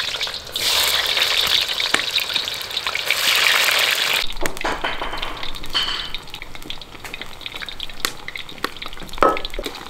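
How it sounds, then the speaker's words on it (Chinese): Lotus root strips deep frying in a wok of hot oil, with a loud, dense bubbling sizzle that eases after about four seconds into lighter crackles, spatters and occasional utensil clinks. "锅里边做上油，把那个莲藕炸一下，"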